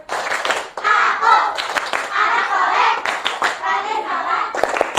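Classroom of children clapping a rhythmic 'tepuk anak soleh' chant together, steady claps over group chanting voices, close and lively with a few sharp claps near the end.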